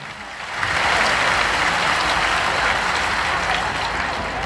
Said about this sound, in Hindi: जोरदार करतल ध्वनि से अभिनंदन करो अपने महाराज जी का